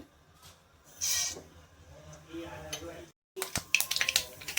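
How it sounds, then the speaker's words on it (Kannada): Mustard seeds hit hot oil in a pan, about two spoons of oil heated for a homemade potato samosa filling. After clattering utensil sounds and a brief silence, a burst of sharp, close spluttering pops and crackles follows. "ಎಣ್ಣೆ ಕಾದಿದೆ ಇದಕ್ಕೆ ನಾನಿವಾಗ ಸಾಸಿವೆ ಹಾಕೋತಿದ್ದೀನಿ"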